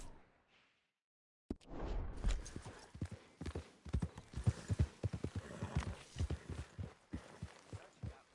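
A horse's hooves clip-clop in Red Dead Redemption 2, a steady run of close, distinct thuds on soil after a brief silence, with faint whooshes.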